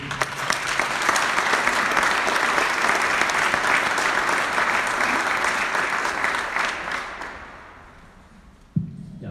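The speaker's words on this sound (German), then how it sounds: "Bitte einen großen Applaus vom Oberbürgermeister der Stadt Fürth" Audience at a foundation stone ceremony in Fürth applauding steadily for several seconds before the clapping fades out, followed by a brief sound at the end.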